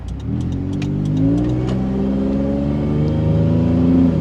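A supercharged third-generation Toyota 4Runner engine revs steadily and loudly, its pitch climbing and holding through the whole stretch with no talk over it.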